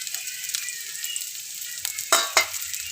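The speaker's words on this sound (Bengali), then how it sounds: "পেঁয়াজটা ভাজা হচ্ছে" Onions frying in hot oil in a pan, a steady soft sizzle broken by a few sharper crackles and spits toward the end, close and with no talk.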